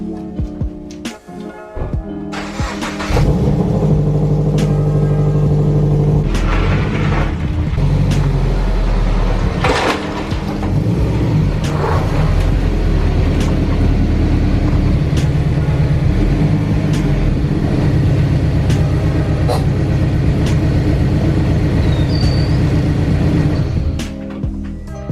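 Subaru FRS sports car engine cranks and starts, then settles into a steady, loud idle that runs close by without interruption for the rest of the stretch.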